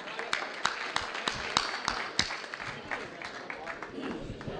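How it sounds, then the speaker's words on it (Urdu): Audience at a Dallas mushaira applauding in welcome of a poet, scattered sharp claps over a steady crowd murmur with some talk mixed in. "آپ کی بھرپور تالیوں میں"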